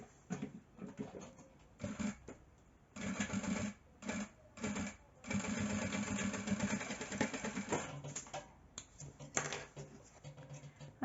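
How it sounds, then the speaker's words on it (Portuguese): A sewing machine stitches synthetic material for an insulated lunch bag, running in several short mechanical bursts and one longer steady run, close but fairly quiet, with pauses between. "depois eu vou com o sintético por cima e passo uma costura aqui"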